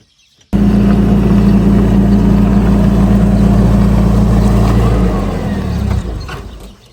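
A forklift engine starts suddenly and runs loud and close with a steady rumbling drone, then fades and winds down toward the end.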